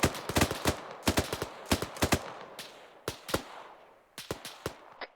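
Bursts of video-game gunfire in a military shooter, sharp cracking shots in quick clusters and single reports spread across a few seconds, fairly loud and close with no talk over them.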